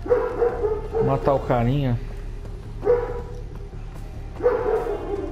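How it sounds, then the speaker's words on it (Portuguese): Dogs bark and yelp in Far Cry 4, with short bursts spread across the span, heard under and between a man's speech. "Outro cachorro."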